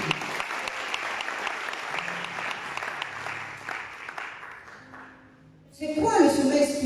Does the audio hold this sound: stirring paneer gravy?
no